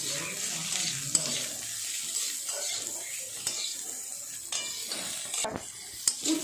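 Bitter gourd and potatoes fry in oil in a wok, giving a continuous hiss and sizzle punctuated by occasional sharp scrapes and clanks of a metal spatula stirring against the pan, close and unaccompanied by talk.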